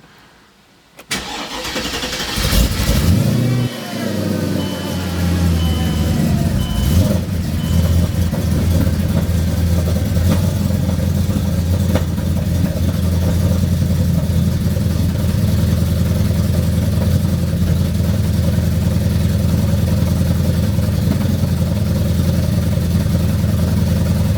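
Mercedes CLK55 AMG with an M113K supercharged V8 cranks and fires after a faint start, then settles into a loud, steady, rumbling idle that continues close by for about twenty seconds.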